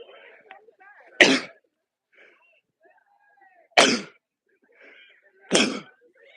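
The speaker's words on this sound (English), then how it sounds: "Gotta sneeze." A girls' soccer livestream commentator sneezes three times, each a sharp isolated burst separated by a couple of seconds of quiet, with small breaths and throat noises in between.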